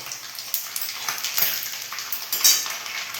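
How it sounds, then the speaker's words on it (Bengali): Spice tempering (phoron) crackles and sizzles in a hot pan, with soft scraping and stirring clicks and a few sharper pops over a quiet hiss, heard close and alone. "ফোরনটা বেশ করে ভেজে নিতে হবে"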